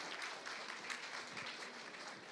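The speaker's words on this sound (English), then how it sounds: "let's give him a big round of applause." Indoor audience gives steady, dense applause welcoming a city mayor at an evening event, a continuous wash of clapping throughout with no speech.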